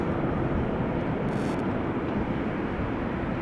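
China Southern Boeing 777 airliner at Amsterdam Schiphol Airport, a steady loud broadband jet engine roar that holds without pause throughout.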